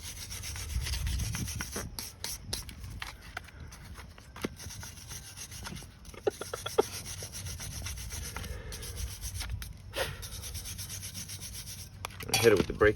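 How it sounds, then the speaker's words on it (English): A stiff brush scrubs dirt, rust and debris off front brake parts on a 2017 Nissan Murano, giving close, steady rubbing strokes with a few sharper scrapes and knocks. No one speaks. "Brush out any dirt, rust, debris."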